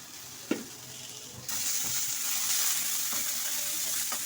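Hot oil sizzling in a pan as green coriander and green chillies go in for a tempering, a soft clink near the start, then a steady loud broadband fry from about 1.5 seconds on, with a few stirring knocks.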